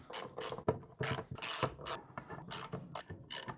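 A ratchet wrench works on the intake side of a BMW M54B30 inline-six engine, giving repeated bursts of rapid metallic clicking in short strokes with brief pauses between them, close and fairly loud with no talking.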